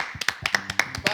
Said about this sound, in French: Applaudissez pour cette personne.